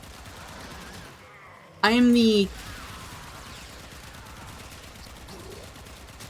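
Pistol gunfire in the Warframe video game: a continuous rapid patter of shots at moderate volume throughout, briefly interrupted by a short spoken word.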